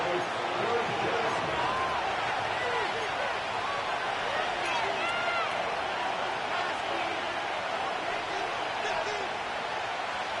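A stadium crowd in a Madden football video game roars steadily at a moderate level beneath a commentator's play-by-play.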